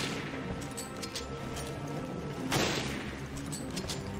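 Gunfire in Resident Evil Revelations rattles in a quick series of sharp shots, with one louder crack standing out midway through over a low background rumble.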